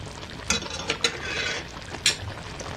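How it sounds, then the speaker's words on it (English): Metal kitchen tongs clack and scrape in a pan while turkey wings are turned, giving a few sharp clicks over a steady background sizzle. "Let me get my trusty tongs."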